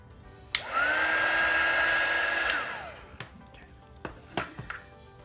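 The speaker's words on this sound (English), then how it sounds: "Now I'm just going to take my heat gun and I'm going to dry it." A heat gun dries a watercolour wash on paper, switching on with a click into a steady high whirring blow for about two seconds, then winding down, followed by a few light taps close by.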